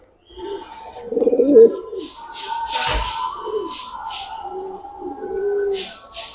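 Fighter pigeons, including silver and red khaki birds, coo repeatedly in a breeding loft, with soft low calls recurring throughout and a brief louder flutter or bump midway.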